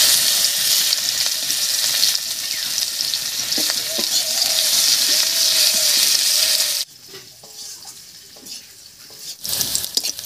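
Black cumin seeds, a bay leaf and chopped onion hiss and sizzle loudly in hot mustard oil left over from frying fish, with some stirring. The frying then drops abruptly to a much quieter level.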